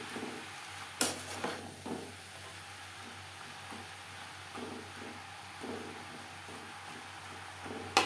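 Bottle gourd being stirred and mixed with spices in a pan for a vegetarian gourd and Gobindobhog rice dish: a spatula scrapes and knocks against the pan in irregular strokes over a faint, steady sizzle.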